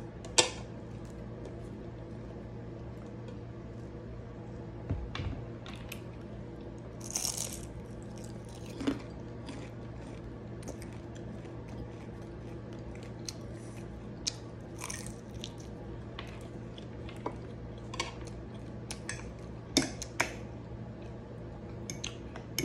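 Crispy egg rolls being eaten up close at a mukbang meal: scattered sharp crunches and bites with occasional clicks of dishes, over a steady low hum and no talking.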